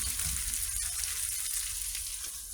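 Whiting fish frying in a pan, a steady, close, broadband sizzle of hot oil that holds level throughout, with no voices.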